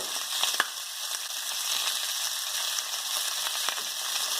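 Shallot tossed into hot oil where pig's feet are being stir fried, giving a steady close sizzle and crackle with a few sharp pops throughout.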